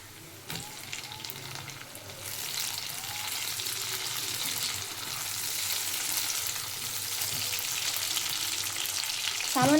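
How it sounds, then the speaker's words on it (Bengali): Chopped tomatoes go into a pan of browned onions, and the quiet sizzle swells into a strong, steady hiss of frying that keeps crackling with faint stirring, no voices. "এর মধ্যে আমি দিয়ে দেবো টমেটো কুচি"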